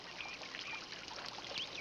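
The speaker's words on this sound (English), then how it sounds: "I hear the birds." A few faint, brief bird chirps rise now and then over a steady wash of flowing water.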